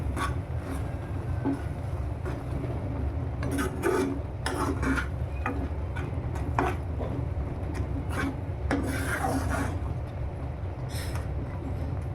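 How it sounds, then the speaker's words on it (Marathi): Lemon pickle being stirred and sautéed in a pan over low heat: a steady close rasping, scraping texture with a low sizzle bed, broken by brief sharper scrapes of the spoon against the pan. "दोन मिनटं याला परतून घ्यायचं"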